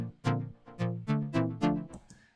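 A raw Serum synth preset with only delay plays five evenly spaced plucked chord stabs, each decaying quickly with echo tails, quiet and dry, ending in a faint higher blip.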